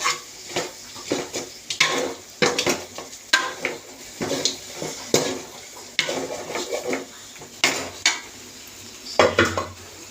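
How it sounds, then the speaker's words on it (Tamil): Metal utensil scraping and clinking against a cooking pot while stirring in masala spice powder for mutton curry, repeated irregular strokes, close up, with a faint sizzle underneath. "மசால் பொடியை போட்டு நல்லா இதையும் நல்லா கிளறி விட்டுக்குவோம்."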